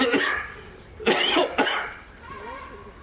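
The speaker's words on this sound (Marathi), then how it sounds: "खोकला काही बोलू देत नाही आता" A person coughs with two sharp, harsh bursts close to the microphone, after a brief stretch of voice at the start, then quiet murmuring.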